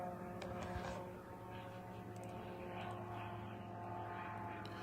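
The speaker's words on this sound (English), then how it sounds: "where you could hear the audio of the drone just outside of this apartment" Drone flying over Moscow just outside an apartment building, a steady droning engine hum with strong low harmonics that persists throughout at moderate loudness, with faint background noise.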